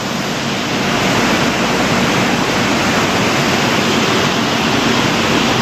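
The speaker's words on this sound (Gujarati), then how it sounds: "વરસાદી માહોલ જામ્યો છે જો મોટા મોટા છાટે આવે વરસાદ" Steady, dense roar of heavy rain with large drops pouring down continuously in Rishikesh, broadband and loud with no voices or breaks.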